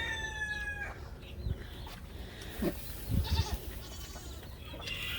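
Goats bleat faintly and shuffle about while eating straw, with a rooster crowing in the background and quiet barnyard noise throughout.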